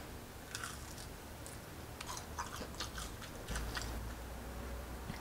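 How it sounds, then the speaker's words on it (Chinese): Crispy homemade fried chicken nuggets being bitten and chewed close to the mic, with repeated crackly crunches over a steady low background and no speech. "外面酥脆，里面的肉质是非常的软嫩入味的，蘸上这个标配番茄酱尝一尝"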